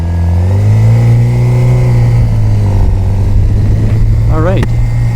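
Suzuki GSXR motorcycle engine humming steadily, then revving sharply with rising pitch near the end as the rider pulls away; the engine is loud and close throughout.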